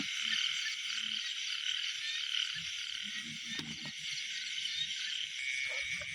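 Small baby frogs croak at night in a steady chorus over a constant high insect drone, the croaks coming in soft, scattered low bursts at moderate distance.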